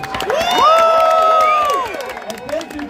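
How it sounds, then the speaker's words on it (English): At a Dreamhack gaming event, the audience breaks into loud cheering and whooping with clapping underneath, the shouts swelling to a peak in the middle before tapering off. "And a big round of applause for you guys."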